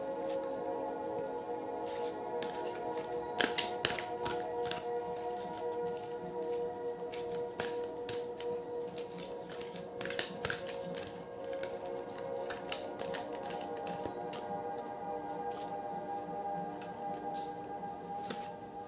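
Oracle cards being shuffled by hand during a reading: soft papery riffles and slaps at close range, with scattered louder flicks over a quiet background.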